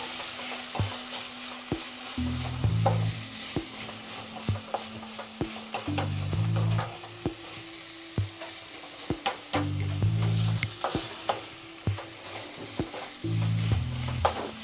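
Mutton and tomatoes sizzle in a pan for mutton chukka while a spoon stirs and scrapes repeatedly in an irregular rhythm, close and clear with no talking.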